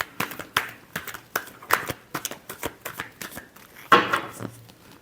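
Tarot cards being shuffled close up, with a run of crisp riffling, snapping bursts in an irregular rhythm and short quiet gaps between them.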